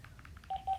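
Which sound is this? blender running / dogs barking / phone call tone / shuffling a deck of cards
phone call tone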